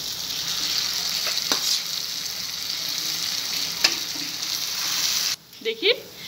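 Grated boiled potato with spices sizzles in a pan, a steady close hiss with a few utensil taps, then cutting off abruptly near the end before brief soft stirring scrapes.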